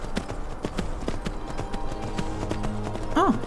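Horse hooves clip-clopping in the video game Skyrim, a steady run of evenly spaced hoof strikes close by, ending with a short whinny near the end.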